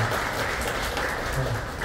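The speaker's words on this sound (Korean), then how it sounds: "우리 박수로 격려하며 축복하며 보내드립니다" A church congregation applauds during an Easter Sunday service, a brief wash of even, dense clapping throughout the room with a faint voice underneath.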